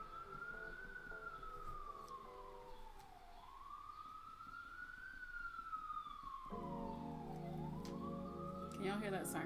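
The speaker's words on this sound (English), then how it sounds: "Can y'all hear that siren?" A distant wailing siren rises and falls in slow sweeps, with traffic rumble and a nearby voice talking underneath.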